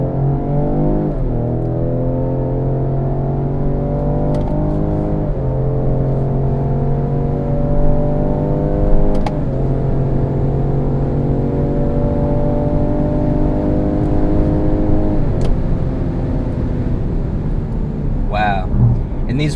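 A 2021 Ford Explorer ST with its engine pulling hard under acceleration, a steady loud drone with rising harmonics that climb through several gear changes over about twenty seconds, heard from inside the cabin.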